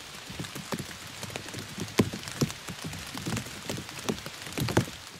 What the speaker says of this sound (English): It did rain that night.